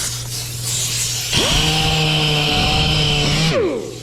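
A power tool spins up with 800-grit sandpaper against an old car wheel crusted with brake dust, running as a steady close whine for about two seconds before winding down.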